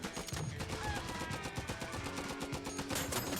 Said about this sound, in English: I love this grenade launcher.